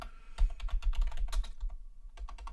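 Rapid clattering keystrokes on a computer keyboard, close and alone, in quick irregular bursts with a brief pause near the end.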